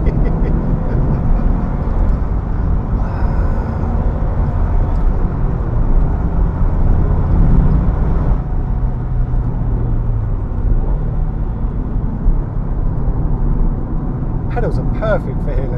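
A Subaru Impreza WRX STI Type R Version 3 engine pulls hard in second gear with a loud, continuous low rumble heard from inside the car. Excited talk carries over the drone throughout.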